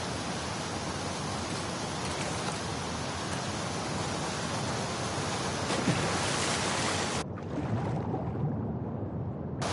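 A fast-flowing torrent of water in The Last of Us Part II, a loud, dense rushing wash that runs continuously, then briefly thins and drops away near the end before surging back.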